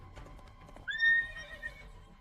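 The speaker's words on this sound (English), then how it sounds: "A runaway horse." A runaway horse neighs in a loud, close whinny over a brief patter of hoofbeats, alone without voices.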